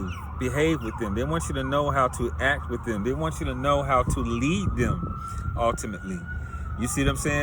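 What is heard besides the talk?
emergency vehicle sirens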